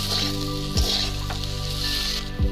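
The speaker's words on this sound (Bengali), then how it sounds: "এরপর ভেজে রাখা আলুগুলো দিয়ে দেব, লবণ দেব। আবারও মশলার সাথে আলুটাকে ভালো করে মিশিয়ে নেব।" Fried potatoes are stirred with salt and spices in a pan for a Bengali potato and fish curry, with an oily sizzle and two quick scraping strokes of a utensil.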